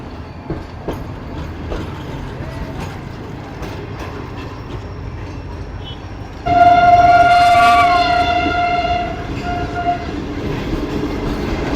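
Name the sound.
train approaching Tando Jam railway station, horn sounding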